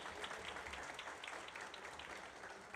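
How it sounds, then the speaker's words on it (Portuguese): An audience applauds Carol, the shopping centre's photographer, at a fan meetup for the 2025 Campeonato Paulista final, the clapping fairly faint and steady throughout with no voices over it. "Palmas para ela"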